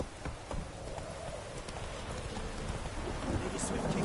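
A horse gallops through a rainstorm in the Witcher 3 video game, rapid hoofbeats pounding under a constant wash of rain, with some distant rumbling, all fairly close and continuous.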